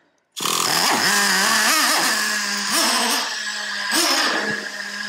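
A Traxxas Revo 3.3 nitro engine, freshly adjusted at its low speed needle, starts abruptly and screams close up at a steady high rev, then dips and wavers as it bogs in places.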